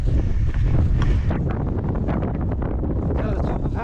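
Strong gusty wind buffets the microphone on a snowy fell top, a loud roaring rumble that surges and eases continuously throughout.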